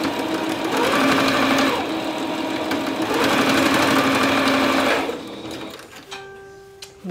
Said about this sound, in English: And then I'm gonna just go ahead and sew that.